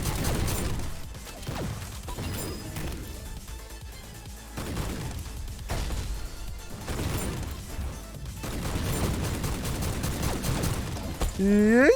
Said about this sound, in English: you can also grenade jump in this game